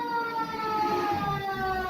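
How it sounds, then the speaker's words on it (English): A siren wails steadily and loudly on its own, with a wavering tone and no voices, heard just before a San Francisco Giants opening day pregame show. "the sirens are going."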